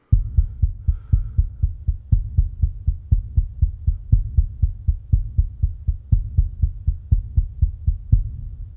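A human heartbeat thumps in near silence, close and muffled, with paired lub-dub beats repeating at a steady, slightly quick rhythm, roughly two per second, throughout.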